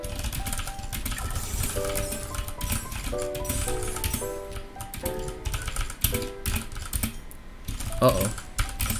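Rapid computer keyboard typing during a fast Tetr.io match, with bursts of clattering keystrokes throughout under game music tones and occasional short vocal outbursts.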